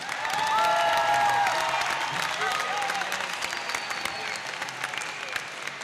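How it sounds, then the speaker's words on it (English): An audience at a high school graduation ceremony applauds the school band, steady crowd clapping heard at a moderate distance with scattered cheers and faint voices underneath. "Would you please join me in a round of applause for the Vanguard Band under the direction of Ms. Liz Short"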